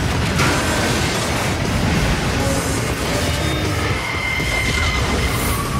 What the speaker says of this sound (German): Ein führerloser Zug? Auf unserem Gleis?